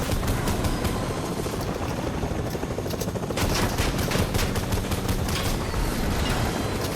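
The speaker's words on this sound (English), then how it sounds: "they're gonna go fly in the helicopter" In Fortnite, a helicopter flies during a college duos esports match, its rotor thudding in a rapid steady beat. The engine drone runs continuously and loudly, with sharp bursts that may be gunfire layered over it.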